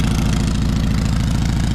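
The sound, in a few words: utility vehicle engine with dual exhaust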